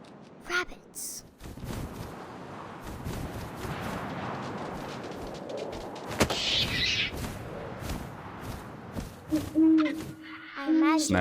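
Owl hoots from the video game What Remains of Edith Finch come near the end, a short run of low hoots after a long stretch of wind-like noise, with a sharp crack partway through and a narrating voice.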